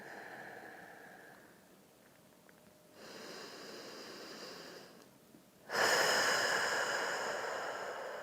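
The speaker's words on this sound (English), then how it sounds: "In through the nose, nice long, slow breath in." Slow, deep breaths drawn in through the nose and let out during a sleeper-style shoulder stretch for internal rotation, soft airy inhales building to a louder, fuller exhale near the end, with no talking.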